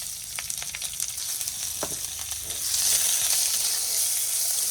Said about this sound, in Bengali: এখন এই যে একটু পেঁয়াজ কুচি দিয়ে দিচ্ছি অল্প করে